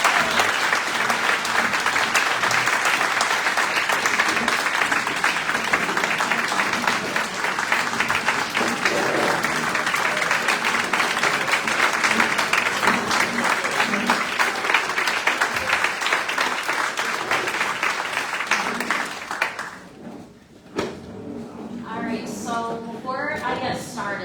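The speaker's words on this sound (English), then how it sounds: "Please join us in giving a well-deserved round of applause" Audience applause at a teacher of the year awards ceremony: sustained, dense clapping from a large crowd for about twenty seconds, then it drops away as a voice begins speaking.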